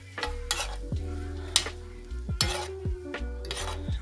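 Meat and peppers sizzle as they are stirred in a pot of gumbo roux, with repeated scraping strokes and light clinks of a utensil against the pot, close and steady with no talk.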